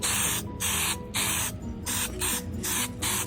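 Krylon Looking Glass spray paint hissing from an aerosol can onto a glass door in a shop, several loud, close bursts of even spraying separated by brief pauses.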